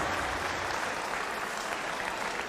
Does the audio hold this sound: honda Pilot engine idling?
no